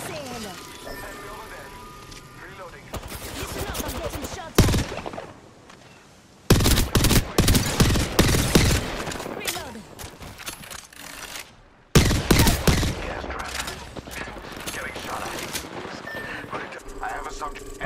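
Heavy gunfire in the battle royale game Apex Legends, with repeated loud bursts of automatic fire and sharp shots in several clusters, close and intense, with game voice callouts mixed in.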